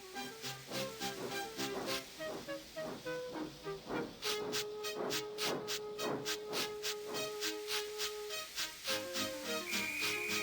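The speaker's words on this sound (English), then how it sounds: "Gordon, with much noise and blowing of steam, got ready to back onto the train." Steam engine hissing and blowing off steam on a railway line, a continuous loud hiss with pulsing chuffs and a steady whistle-like tone running over dense orchestral music.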